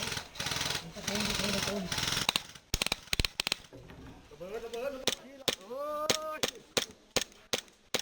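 Airsoft guns firing in a milsim game: sharp single shots and short bursts crack close by at an irregular pace, while people talk and shout over them.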